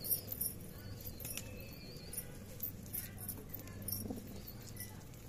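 Domestic pigeons, including a black-green male, flutter and flap their wings in short bursts close by, mixed with scattered light scratches and pecking sounds over a low background hum.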